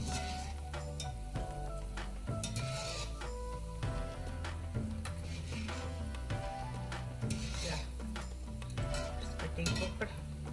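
Maida flour biscuits sweetened with sugar fry over a slow fire, a continuous soft sizzle and bubble of oil with occasional clinks and scrapes of a utensil in the pan.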